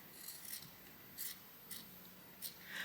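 Scissors snip through scrap fabric in four or five short, crisp cuts spaced unevenly, close and fairly quiet, with no talking.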